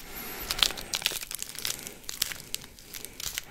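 A pomegranate is cut and pried open at close range, giving a run of crisp crackling, tearing and crunching bursts with small louder snaps, with no talking.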